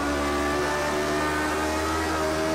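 Lotus 49 race car with a Cosworth engine accelerating at Spa, a loud sustained engine drone with steady harmonic whine heard close from on board, no voices.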